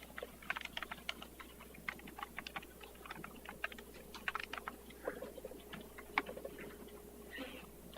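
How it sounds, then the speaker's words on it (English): Rapid, irregular clicking of keys on a computer keyboard as someone types a short entry, close and moderately quiet over a faint steady room hum, with no talking. "on the next blank line, I'm going to type in South Area KCE"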